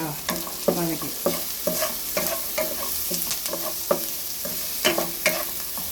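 Onions sautéing in a pan for ridge gourd curry, with a steady sizzle under repeated close scrapes and clacks of a spoon stirring, no talking.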